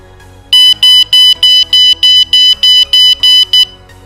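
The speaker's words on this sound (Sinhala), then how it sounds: "ඒ වගේම බීප් සද්දෙත් එන බස් එකේ යනවා" An MQ-2 smoke and gas sensor alarm, set off by incense smoke, sounds its buzzer in about ten evenly spaced loud electronic beeps, each roughly a quarter second long, with a faint low hum underneath.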